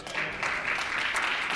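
Applause in the Manitoba legislative chamber: a brief, dense burst of clapping from many members, close and sustained throughout.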